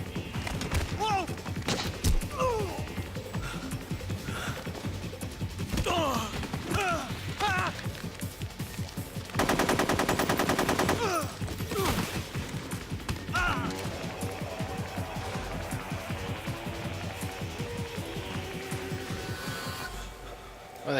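Machine gun fire in Metal Gear Solid 3, scattered clattering bursts and impacts mixed with game noise, including one dense, loud sustained burst near the middle, with voices heard at times.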